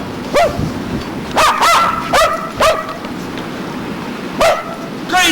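Sparky the dog barks outdoors in deep snow during a winter storm, five or six loud close yelping barks in irregular bursts, with a voice briefly audible.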